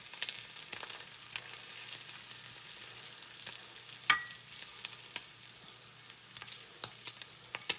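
Peppers and ham sizzle steadily in a frying pan, a soft continuous crackle with scattered pops and faint spatula scrapes, close and alone with no voices.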